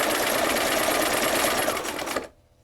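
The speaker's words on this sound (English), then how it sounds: "it has a knee lift that when I push the knee lift, it pushes against the foot pedal and makes the machine go" A cabinet sewing machine, run by a knee lift pressing the foot pedal, whirs steadily at close range and loud, then winds down and stops near the end.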